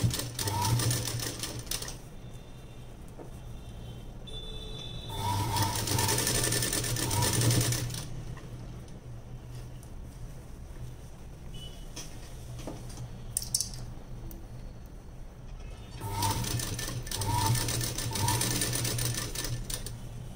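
A sewing machine runs in several sustained bursts while stitching piping onto cloth, with pauses between runs, up close and steady, and a voice speaks briefly in the background.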